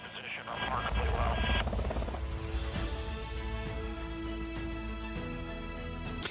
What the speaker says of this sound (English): they have actual footage of remote piloting this Black Hawk helicopter